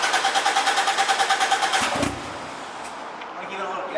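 Turbocharged 2ZZ-GE engine in a Toyota MR2 being started: a rhythmic, pulsing starter crank for about two seconds, then the engine catches and settles into a steady idle, close and fairly loud.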